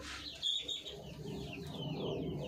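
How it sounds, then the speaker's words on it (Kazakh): Laying hens cluck and chirp softly amid a busy, noisy background, with a short burst of higher calls near the start. "Жұмыртқалап тұрған тауықтар."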